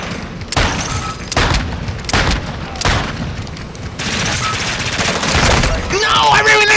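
Gunfire in a shooter video game, with loud close bursts of rapid shots and heavy booms repeating in clusters, ending in a rattling burst with scattered higher clinks.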